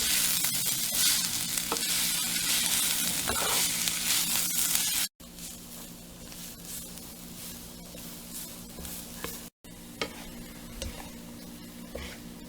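Chicken liver and ginger stir-frying in a hot pan give a steady, close sizzle with stirring scrapes, broken by two brief cuts to silence and continuing alone without talk.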